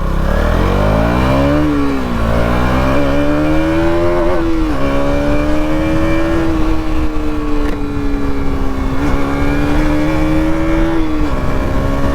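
A 2026 KTM Duke 200 single-cylinder motorcycle pulls hard through the gears past 6000 RPM, its engine note climbing in rising sweeps with brief dips at each shift, loud and close under constant wind rush.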